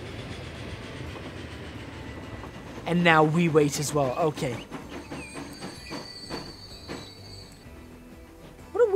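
Train in the video game Transport Fever, its rumble and clickety-clack running under someone speaking, with a squealing tonal burst partway through and intermittent clicking.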